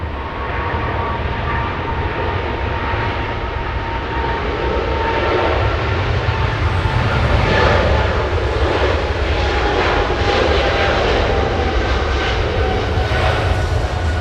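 An Emirates airliner roars through its takeoff on a wet runway, the jet engines producing a loud, broad, continuous rumble that swells slightly as it departs.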